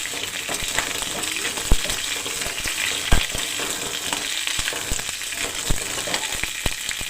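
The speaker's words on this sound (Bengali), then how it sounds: "এবার এটা লাল করে ভেজে নিতে হবে।" Pointed gourd frying in oil until reddish, a dense, steady sizzle close by, broken by occasional sharp clicks and taps of a spatula against the pan.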